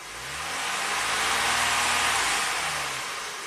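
Toyota engine revving under throttle, a steady mid-pitched drone swelling gently and easing off, heard close with no talk.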